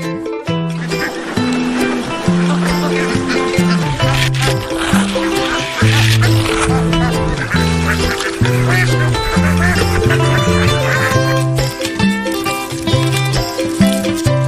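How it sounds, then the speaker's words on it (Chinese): Ducks quack loudly and continuously on a rural island farm. The dense, overlapping calls sound like a large flock close by, with background noise throughout. "那鸭子呢？ 鸭子是很大的，可以卖了。"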